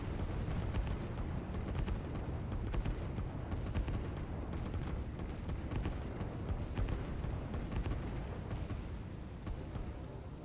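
Artillery pieces pounding infantry in the strategy game Line War, a dense, continuous roar of booms and blasts layered thickly over one another with no pauses.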